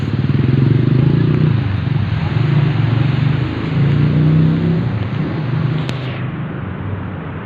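Road traffic at a jam near Pioneer, Pasig: idling and creeping engines rumble loud and close in a continuous drone with swelling throbs, then the high-pitched hiss above them cuts off near the end.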